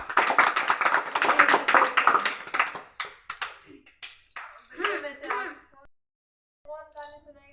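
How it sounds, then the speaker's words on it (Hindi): Children in a storytelling session clap in a burst of sharp, uneven handclaps that thin out into a few scattered claps, followed by a voice speaking. "तालियां बजाए एक बार।"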